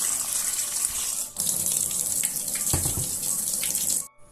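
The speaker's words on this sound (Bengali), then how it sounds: "এখন এগুলোকে আমি ধুয়ে নেব।" Cut taro stolons being washed under a running faucet, water gushing steadily into a sink with splashes and shifts in flow before the tap cuts off at the end.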